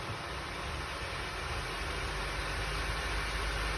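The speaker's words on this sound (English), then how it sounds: "you can hear the fan in the background" A steady, even whir of a Nissan Navara D22 blower motor fan at full speed on 12 volts runs without pause, a constant broadband hum with no talking.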